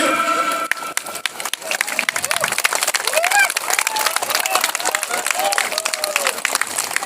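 Applause and cheering from a crowd at an event celebrating a Guinness World Record attempt, a steady clapping texture with whistles and rising shouts over it, and people talking throughout.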